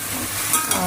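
Mushroom frying in a pan of hot oil tempering, a loud, close, continuous sizzle with a couple of brief sharper crackles and stirring scrapes partway through.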